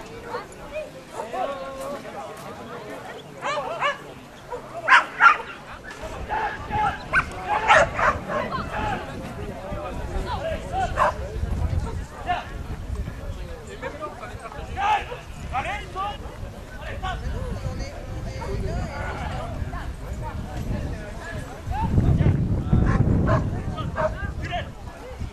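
A dog barks and yips repeatedly amid talking voices and background noise, with some whimpering between the barks.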